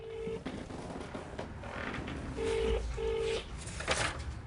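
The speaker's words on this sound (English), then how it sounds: "the staff member calls her on speakerphone" A shop staff member's phone call on speakerphone: a few short steady tones, some in a pair, that sound like dialing or ringback, over a constant room hum.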